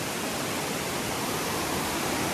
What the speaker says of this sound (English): Waterfalls literally everywhere you look.